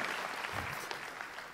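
A church congregation at a sermon applauds, a brief burst of clapping that stays fairly even and tails off slightly toward the end.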